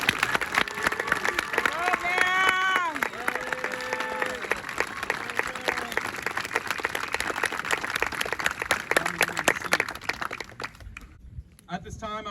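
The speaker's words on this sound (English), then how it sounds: "please give a round of applause for our class of 2022." Graduation audience applauding the class of 2022 at an academy ceremony, a dense sustained wash of clapping from a large crowd with scattered whoops, fading near the end. A voice speaks briefly over the applause.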